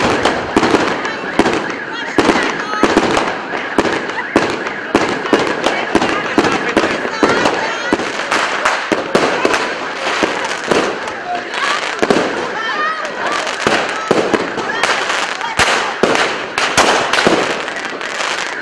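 Fireworks and firecrackers set off in the street at midnight on New Year's Eve in Giurgiu, Romania: a dense, continuous barrage of sharp bangs and crackles, loud and close, for the whole stretch.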